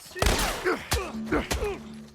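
Gunfire in the video game The Last of Us Part I: several sharp, loud shots spaced apart, each with a short echoing tail, mixed with brief game voices.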